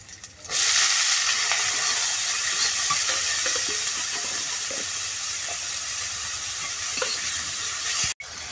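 Cauliflower stalks and potato fry in hot oil with a continuous loud sizzle and hiss, occasional stirring scrapes coming through, ending in a sharp knock.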